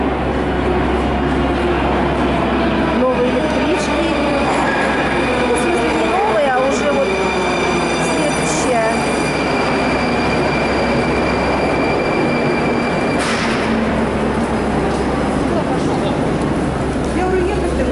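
Moscow metro train running through an old pre-war station, a loud continuous rumble with wheel squeal and a rising-then-falling whine, steady throughout, with a voice faintly present.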